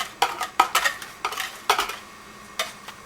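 A spoon stirs sugar into a frozen yogurt mixture in a bowl, making a run of sharp, irregular clinks and scrapes against the bowl, close up and with no talking.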